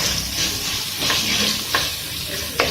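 Onions sizzle and hiss in hot oil while being stirred for a lamb intestine curry, a steady frying crackle with occasional sharper scrapes of the spoon against the pan.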